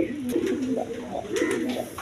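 Big-sized Lahori pigeons at a pigeon sale coo close by in a soft, throaty rolling rhythm, several pulsing phrases repeating over about two seconds.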